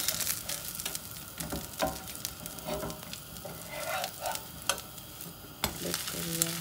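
Dosa batter fries in ghee on a hot pan, giving a steady close sizzle broken by sharp scraping and tapping from a spatula, with no talking.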